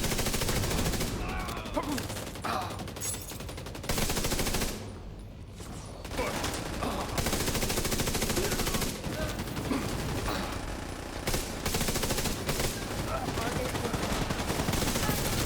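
Loud, sustained video game gunfire, dense rapid shots in long bursts with one brief lull, with a voice talking now and then.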